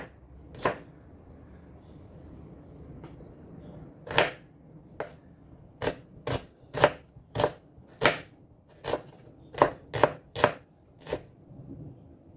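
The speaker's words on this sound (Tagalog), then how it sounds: "Dahan-dahan sa paghiwa ang talas ng mga kutsilyo mga lods." A sharp kitchen knife chops ingredients for a Filipino pulutan dish on a board, about a dozen crisp, distinct knocks that come in an irregular rhythm and grow quicker toward the end, close and clear with no talking.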